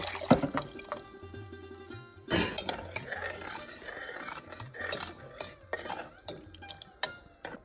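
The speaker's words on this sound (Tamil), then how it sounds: "கரைச்சி வச்சுருக்கிற புளி தண்ணியை இதோடு சேர்த்துடணும்." Tamarind water splashes and pours into a pan of okra sambar amid clinking of utensils and pots, with scraping and stirring sounds throughout; no voices.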